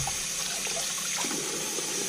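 Tap water runs steadily over the top of a razor-honing dressing stone, a continuous close rinsing splash with no voices.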